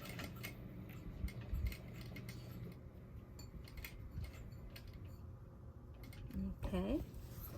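A sewing machine stitching placemats gives off a faint, busy mechanical whir and ticking under quiet room noise, with a voice briefly sounding near the end.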